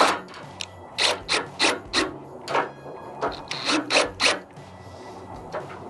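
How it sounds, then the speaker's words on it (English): A power drill drives a screw into the screw boss on a louver while a pivot bar is being installed, giving a series of short whirring bursts of roughly even rhythm, close and fairly loud, with no talking. "I'm going to screw it in."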